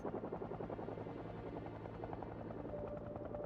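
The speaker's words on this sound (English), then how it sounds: "looks like our helicopter friend has left" A helicopter in the video game Project Zomboid drones steadily with a constant low rotor chop, faint and distant, with no one speaking.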